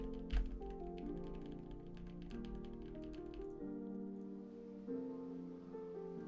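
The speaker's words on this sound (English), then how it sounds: "God, I love the sound of this keyboard." Computer keyboard typing with a rapid clicky rhythm, heard fairly close beneath steady background music during a cozy MMO gaming stream.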